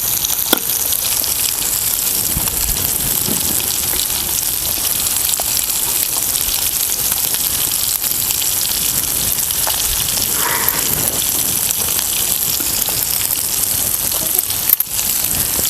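Fish frying in hot oil, a loud, continuous crackling sizzle that holds steady throughout with only faint occasional clinks.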